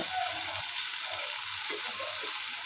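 Green chillies frying in a pan, giving a steady close crackling sizzle that holds through the short stretch, with faint soft stirring scrapes and no talk.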